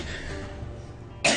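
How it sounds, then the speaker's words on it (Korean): A woman with lung disease coughs once, a short, sharp, close cough that bursts out at the end after a quiet stretch of room tone. "폐 질환으로 인해 기침이 멈추질 않습니다"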